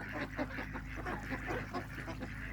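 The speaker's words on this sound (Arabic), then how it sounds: "هناك أيضا في نوع آخر من البط الكبار" Large ducks honk and call repeatedly by a dam, a steady run of goose-like quacks and honks with no talking.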